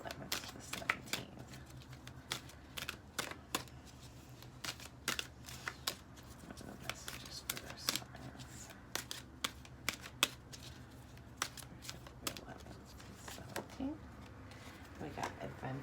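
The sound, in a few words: tarot cards being shuffled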